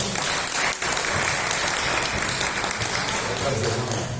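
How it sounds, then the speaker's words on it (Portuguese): A church congregation applauds in steady, dense clapping that fills the room, with a voice speaking over the applause. "Vamos aplaudir o Senhor na vida do nosso apóstolo"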